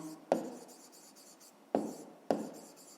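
A pen writes out the solution to a fifth-grade maths problem on paper, producing a soft continuous scratching broken by three sharp, close tap-like strokes.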